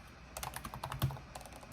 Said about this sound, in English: let's see if we keep typing